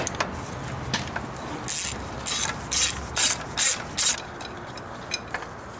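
Socket wrench ratchets on a motor mount bolt wedged between the frame rail and transmission of a 2012-or-later Chevy, giving several short bursts of close, dry clicking with pauses between strokes.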